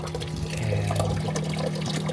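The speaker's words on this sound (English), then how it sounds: "The water exits from there" Water from a boat's washdown pump flows and trickles steadily through a DIY livewell, a close continuous pouring and splashing sound with a faint pump hum underneath.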